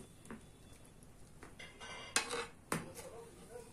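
A whisk clinks faintly against a bowl, a few light scattered taps and scrapes in a quiet kitchen.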